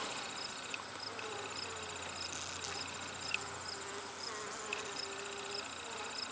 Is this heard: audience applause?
no